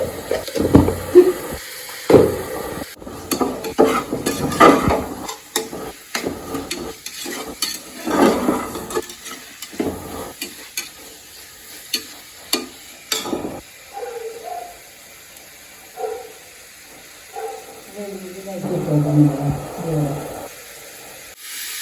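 Onions sauté in a pan for a beef curry, with scraping spoon stirs and soft sizzling that come in bursts and then fade toward quiet.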